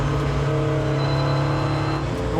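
Renault RS01 race car fitted with a Pikes Peak kit, engine held steady at about 4000 rpm, a loud, even, sustained drone with a constant pitch close by.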